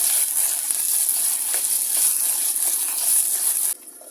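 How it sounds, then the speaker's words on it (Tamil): Garlic sautés in hot oil for a spicy garlic curry, giving a bright, crackling sizzle that holds steadily, then drops away abruptly near the end. "பூண்டு இதிலேயே கொஞ்சம் எண்ணெயிலேயே கொஞ்சம் வதங்கட்டும்"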